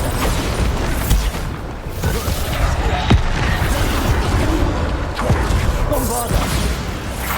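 Booming Bombarda spell blasts from Hogwarts Legacy mix with chaotic combat noise, loud and dense throughout, with a few sharper impacts breaking through the steady rumble.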